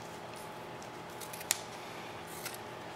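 Medic trauma shears cut through thick terry cloth with a single sharp snip and then a softer one, set against a quiet steady background hiss and no speech.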